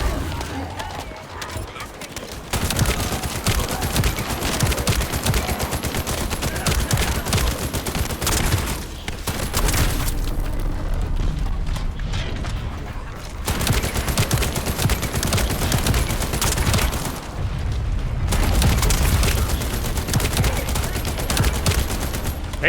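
Near-constant automatic gunfire from The First Descendant shooter game, loud dense bursts with only brief lulls, mixed with game effects throughout.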